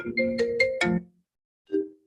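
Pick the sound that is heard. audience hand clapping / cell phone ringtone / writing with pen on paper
cell phone ringtone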